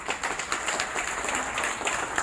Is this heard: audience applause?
yes